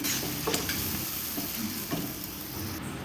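Hot water is poured over sautéed vegetables for a thin pumpkin-stalk and potato curry, giving a loud, continuous close sizzle with occasional stirring clicks, no voices.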